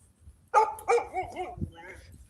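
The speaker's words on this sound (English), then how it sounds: "Yes, you're supposed to bark at me." A dog gives two close, sharp barks followed by softer yips and whimpers, heard fairly near with a person's quiet voice around them.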